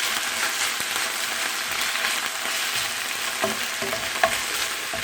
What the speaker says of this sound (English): So we will saute this methi leaves